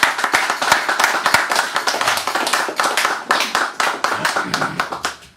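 A small audience claps for poet Francis White, a close, fairly loud burst of distinct individual handclaps that carries on unevenly, then eases off at the end.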